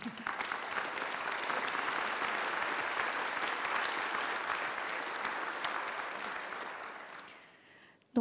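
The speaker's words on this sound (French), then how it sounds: "Je crois que ça peut s'applaudir." Sustained audience applause fills the hall, steady dense clapping throughout before fading out near the end; event on fighting illiteracy, honoring someone's vocational cooking qualification.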